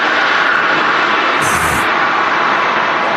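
A jet airliner braking hard after touchdown at Manchester Airport produces a loud, continuous broadband engine roar that holds steady throughout, heard from a distance with no voices.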